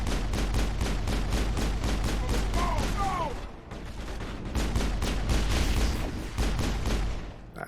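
Gunfire in the video game Mass Effect rattles out in rapid, continuous bursts that pause briefly, then resume loud and close, with a faint voice underneath.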